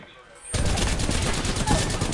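Gunfire in Apex Legends, starting abruptly after a short quiet moment, then a dense, loud, continuous volley of rapid shots close by.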